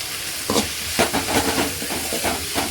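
Spices, including stone flower and fennel seeds, fry and sizzle in a hot pan. A steady close sizzle is broken by rhythmic stirring scrapes about every half second.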